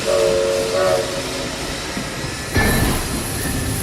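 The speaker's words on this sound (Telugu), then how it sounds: "ట్రైన్ బయలుదేరుతోంది." A train departs, sounding a steady whistle tone at first, followed by a loud burst of hissing steam as it starts moving, with continuous rumbling rail noise underneath.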